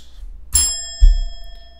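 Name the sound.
little bell chime, from an online chess site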